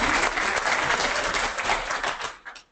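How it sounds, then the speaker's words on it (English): A conference audience applauds a panelist, a loud continuous crowd clapping that stays dense and even before tapering off near the end, alone without speech. "We can still have a round of applause for him"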